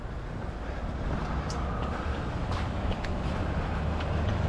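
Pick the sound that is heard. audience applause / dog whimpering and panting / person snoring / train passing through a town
train passing through a town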